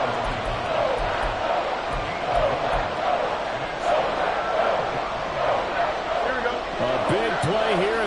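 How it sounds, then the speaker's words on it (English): Football stadium crowd noise rising during a tight fourth-quarter NFL game against the Bears, a broad roar with thumps and shouts building under a commentator's voice. "Play here as the crowd noise rises."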